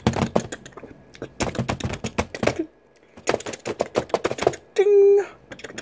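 Typewriter keys clack in quick irregular bursts, close and crisp, with a pause between runs and a bright bell-like ding near the end.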